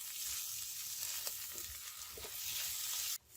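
Qeema being stirred with cumin, coriander powder and garam masala on a hot tawa: steady sizzling with faint scraping stirs, a continuous close crackle that cuts off abruptly near the end.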